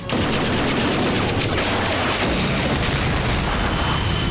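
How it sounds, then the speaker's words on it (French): A loud, sustained roar of cannon fire and explosions, dense and booming throughout, close and overwhelming. "Dès que ces canons auront refroidi, il va se remettre à tirer."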